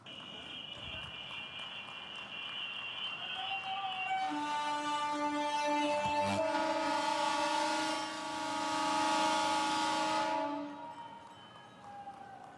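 An electric MEMU train sounds its horn with long sustained blasts over a busy outdoor ceremonial crowd at Rani Kamalapati railway station in Bhopal, loud and continuous, starting partway through and fading near the end.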